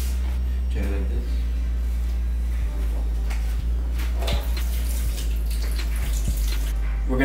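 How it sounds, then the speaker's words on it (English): Soaked cashews are drained in a kitchen, water pouring and splashing steadily into a sink with a few small knocks, under a low background hum. "Let's drain the cashews."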